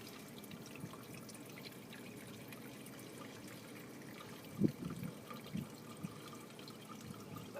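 Aviation fuel trickles and dribbles quietly from a Beechcraft Duchess 76 fuel sump into a small sample container during pre-flight inspection, with a few faint clinks and splashes near the end.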